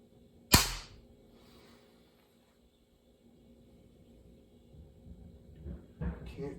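A single sharp airgun shot cracks close by, fired with a very light trigger at a Frosty the snowman target, followed by quiet and faint handling noises.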